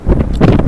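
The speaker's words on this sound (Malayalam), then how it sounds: "ഭയങ್കര കാറ്റുണ്ടോ." Strong wind on the deck of a merchant navy ship buffets the microphone in a brief, loud, close rumbling gust.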